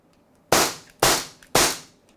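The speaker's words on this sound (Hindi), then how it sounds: "तो आपने देखा किस प्रकार से इसने फायरिंग किया है" A Beretta Mod 84 FS CO2 blowback BB air pistol firing three sharp, loud, close shots at an even half-second pace, each with a short decaying tail, no talk.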